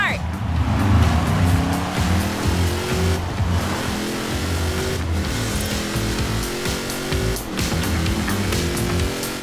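Race cars in the Forza Horizon game roll off at Daytona in a loud, dense engine roar with tire squeal, holding steady for the whole stretch while a voice talks over the top.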